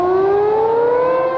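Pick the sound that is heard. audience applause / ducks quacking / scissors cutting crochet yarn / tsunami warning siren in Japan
tsunami warning siren in Japan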